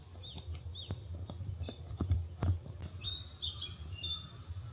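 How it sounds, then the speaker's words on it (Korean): Small birds chirp and tweet in scattered short calls around the Sumiyoshi Taisha shrine in Osaka, fairly distant and light, over quiet outdoor ambience with a few footsteps. "새소리가 참 좋네요."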